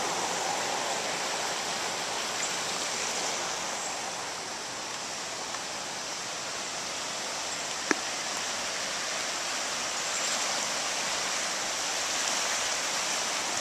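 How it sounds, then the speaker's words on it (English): Floodwater rushes through Broadway Creek, overflowing its bank after hard rain, making a steady, broad roar that holds constant for the whole stretch with no talk, apart from one brief tick. "All of this water runs into Broadway Lake and then from Broadway Lake down to Lake Secession."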